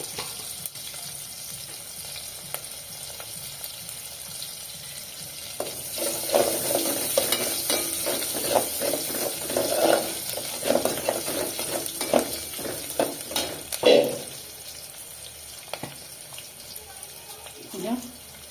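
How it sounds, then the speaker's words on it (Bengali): Bay leaves and cumin seeds fry in hot oil in a home kitchen, with a steady sizzle and intermittent clatter of stirring that grows busier partway through, along with brief faint sounds of water. "এই তেজপাতা, এখানে একটু জিরা দিচ্ছি"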